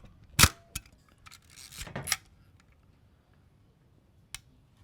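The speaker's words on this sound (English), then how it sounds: "Okay, so we're gonna test the shutter speeds." Shutter of a Zenit EM SLR film camera firing at 1/250, a sharp mechanical click followed by a second snap, then softer winding rustle and a faint later tick, close and alone in a quiet room.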